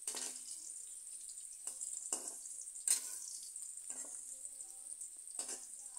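Pumpkin pieces shallow-frying in a pan, a soft continuous close sizzle broken by several quick scraping stirs.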